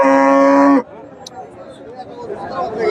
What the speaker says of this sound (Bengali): সুন্দর একটা গাবি বেশ উঁচা লম্বা বড় সড়ো একটা গাবি